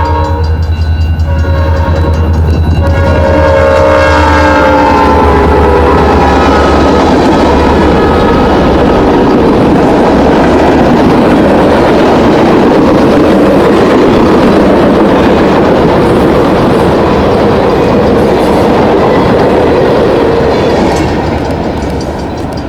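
Woodstock Local freight train passing close and loud, with a sustained horn blast in the first few seconds, then steady rumbling wheels and clatter continuing to the end.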